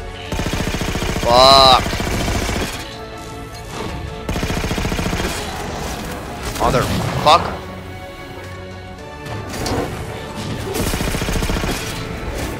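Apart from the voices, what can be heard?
gunfire from enemies in the video game Halo 4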